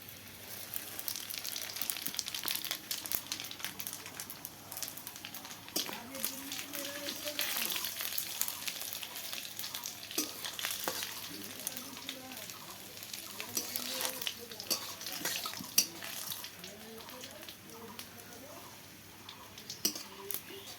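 Panch phoron spices sizzling in hot oil for khichuri, a steady crackling hiss with occasional utensil clatter, and muffled voices faintly underneath.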